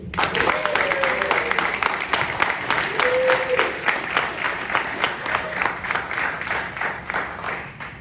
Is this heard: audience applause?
yes